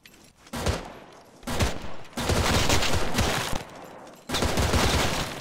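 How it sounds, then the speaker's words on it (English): Gunfire in the video game ArmA 3, sustained loud bursts of automatic fire in three long stretches separated by short pauses, heavy and close. "Might be getting shot at from the other building."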